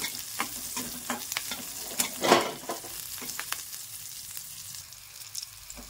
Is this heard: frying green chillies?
yes